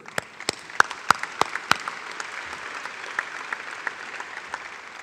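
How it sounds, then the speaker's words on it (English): Audience applause at the Governors Luncheon during the 86th Tulip Time festival: a few sharp individual claps at first, then a steady, moderately loud patter of many hands clapping together. "So I think you all owe yourself a round of applause for sure."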